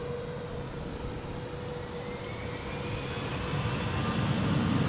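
A Swiss Airbus A330 jet departs Zurich Airport for Mumbai, its engine rumble rising slowly in volume across the few seconds, distant at first and growing nearer, with a faint high whine on top.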